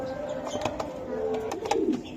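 Budapest and racer pigeons coo softly nearby in short, repeated low calls, with some light rustling and background noise.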